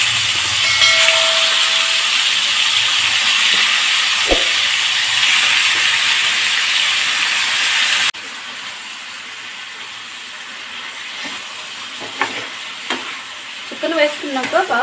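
Chicken frying in a pan makes a loud, steady sizzle and hiss that drops to a quieter, softer frying partway through, with a few scrapes of stirring near the end.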